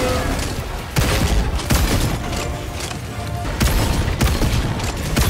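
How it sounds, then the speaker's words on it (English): Repeated heavy shots from a railgun in a video game land roughly every second over a dense backdrop of combat noise, each one a loud sharp blast close in front. "let's see if they actually did nerf the railgun at all"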